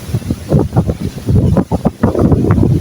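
Strong wind buffets the microphone at sea beside a boat in a boatbuilding setting, a loud continuous roar with gusty swells throughout and no voices.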